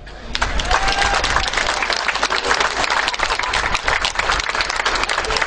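A large crowd applauds loudly and continuously, dense clapping filling the whole stretch with a few faint voices mixed in.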